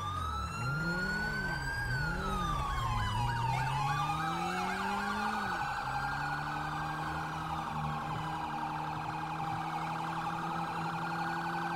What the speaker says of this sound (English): he's fucking up this traffic with the sirens